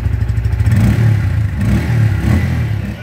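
A Bajaj Pulsar P150 motorcycle's exhaust revs loudly and up close, the engine note rising and falling in a steady throbbing burble over about three seconds, with no talking.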